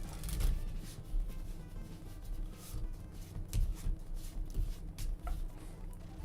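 A deck of playing cards is shuffled repeatedly, mixing genuine and fake shuffles in a sleight-of-hand routine, producing close, crisp riffling and snapping bursts in an irregular rhythm with no talk.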